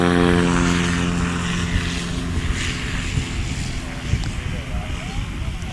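A heavy STOL airplane's propeller engine roars during takeoff at a short takeoff and landing practice event, loud and steady at first, then thinning as the aircraft pulls away, with a voice talking over it.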